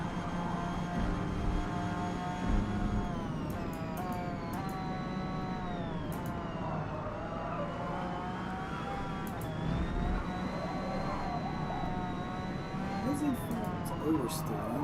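A race car in Forza Motorsport, its engine rising and falling as the throttle is feathered through corners, with a steady rumbling drone under continuous talking.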